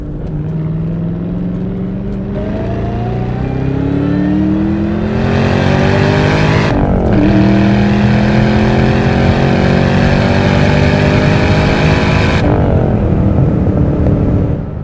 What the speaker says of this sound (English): Got some good exhaust notes there for you. We'll do a little second to third gear pull here for you.